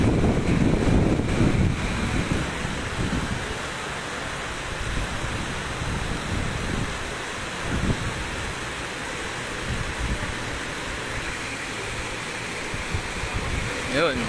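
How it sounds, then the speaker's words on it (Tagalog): Strong swirling typhoon wind roars over a swollen, fast-flowing Marikina River, a steady broadband rush with gusting buffets close to the microphone, while someone talks over it now and then. "Umiikot yung hangin eh."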